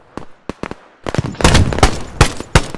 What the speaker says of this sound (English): Climb a tree and just start shooting.